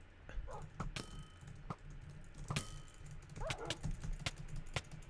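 Dogs in a Minecraft Hunger Games match give faint, scattered short barks and yips amid quiet clicks, several separate sharp bursts spread across the stretch.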